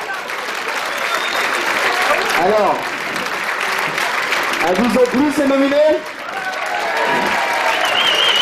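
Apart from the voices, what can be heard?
audience applause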